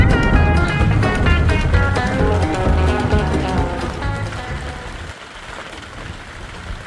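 Rain begins falling outside a shop sheltering a boat restoration project, a steady broad hiss of drops on surfaces that stays loud and continuous before easing slightly toward the end, with no speech.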